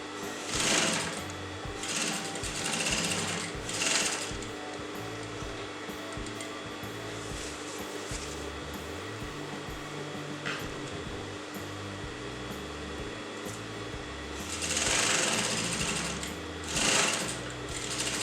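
An electric sewing machine runs in steady bursts while stitching a kurta neckline, its motor humming continuously with louder surges near the start and again toward the end, alone with no talking.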